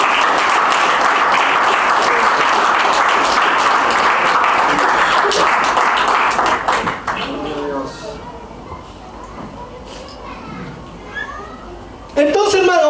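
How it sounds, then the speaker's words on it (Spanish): A church congregation applauds during a Passover service, dense clapping for about seven seconds that fades into a preacher's voice, then a brief burst of clapping returns at the end. "Denle un aplauso al Señor"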